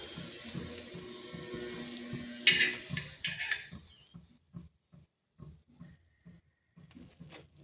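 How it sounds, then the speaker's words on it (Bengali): Onion rolls fry in hot oil with a steady sizzle that fades away, followed by a sparse series of soft taps and clicks from turning the pieces, close and with no talking. "এইভাবে সবগুলো ভেজে নিচ্ছে"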